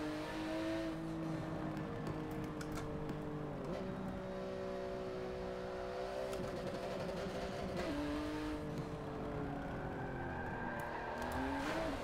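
A Porsche drifting in the Forza Motorsport 7 racing game, its engine holding a steady loud drone with pitch shifts as the rear slides out and the tyres squeal, continuous for the whole stretch with no talking.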